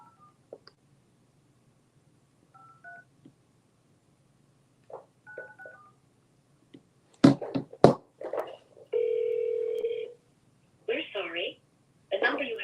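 Telephone keypad tones as a number is dialed, several short DTMF beeps in quick bursts after scattered clicks, fairly close and clear, with a few brief sounds of someone handling the phone between them.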